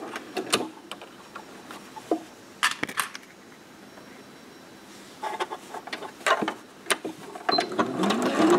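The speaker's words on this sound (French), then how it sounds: "On met bord à bord, on met des petites pinces et on va coudre ici." A sewing machine stitches a legging waistband in short bursts, its needle clatter starting and stopping with quiet pauses between runs; no one speaks.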